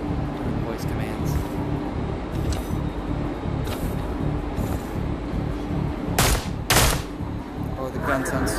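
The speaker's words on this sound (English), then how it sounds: "the gun sounds so weird" Suppressed gunfire in the VR stealth game Espire 2, a series of muffled shots over a constant game ambience, with two sharper bursts near the end and a voice speaking at points.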